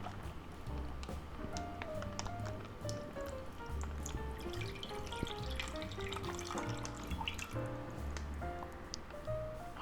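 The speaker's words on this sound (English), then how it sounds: "we're going to drain some of the juices out of there" Meat juices from a sous vide bag holding a thick chuck steak drain into a pitcher, giving a continuous run of close, soft drips, trickles and squishy liquid sounds with no voices.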